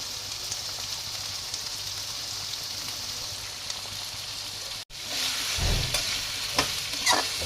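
Capsicum, onion, tomato and ginger stir-fry in a pan with a loud, steady sizzle; after a brief cut, the frying swells with the rough scrape and toss of stirring, and no one talks.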